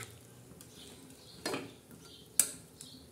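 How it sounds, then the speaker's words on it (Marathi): Brinjal and potato fry being stirred in a pan and a lid set on top, heard as a faint sizzle broken by a scraping stir and a sharp metallic clink. "तर आता आपले वांगे शिजत आहे, तर हलवून देऊ आणि झाकण ठेवूया।"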